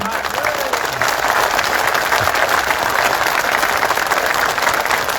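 A large crowd at a rally in Azad Maidan applauds the Chief Minister, producing loud, continuous massed clapping that holds steady for the whole stretch, with a voice faintly audible beneath.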